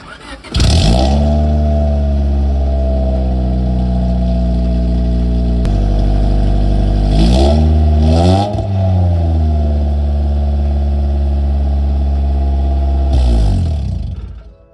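A Honda Civic engine with aftermarket eBay headers roars through its exhaust, revving up and down in long sweeps with a deep, throaty rumble close by.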